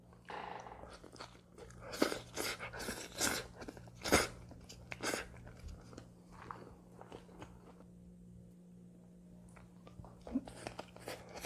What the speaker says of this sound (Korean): 자 그럼 바로 먹어볼게요 자 홍어랑 같이